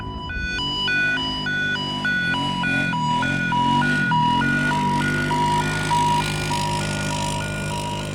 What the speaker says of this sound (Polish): Jedzie coś na sygnale, kładzik na sygnale.